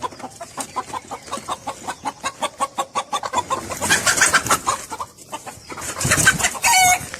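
A rooster clucks in a steady run of sharp, rhythmic notes, then breaks into a loud, drawn-out crow close by, with more excited clucking at the end.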